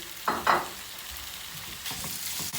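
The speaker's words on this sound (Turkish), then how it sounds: "Soğanlarımız kavrulmaya başladı." Onions and small diced chicken pieces sizzle and crackle in a hot pan, with a couple of louder bursts of frying as they are stirred.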